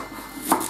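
A knife chopping leek into slices on a board, one sharp close cut standing out over softer, quieter kitchen handling.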